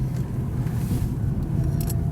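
A Porsche 944 Turbo accelerating on boost, its engine giving a loud, steady low rumble with some higher whine, heard from inside or close to the car.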